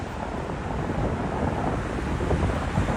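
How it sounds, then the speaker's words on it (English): Strong wind buffets the microphone during a nighttime street walk in New York City, a steady, loud rumbling roar with gusty swells lasting throughout and no voices. "It's pretty windy over here"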